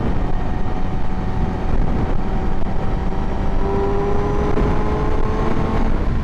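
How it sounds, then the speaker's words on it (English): A 2017 Yamaha R6 motorcycle with an Akrapovic exhaust is ridden, its engine droning loud and close with a steady, rising tone. "But it's pretty throaty. It was a good sounding exhaust."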